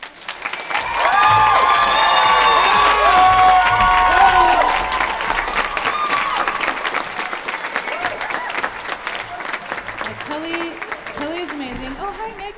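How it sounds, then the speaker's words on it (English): An audience at a high school fall choir concert breaks into sustained applause with cheers and whoops, then the clapping thins out and a few voices talk over it near the end. "give a big round of applause for Kelly DeHaan, our accompanist?"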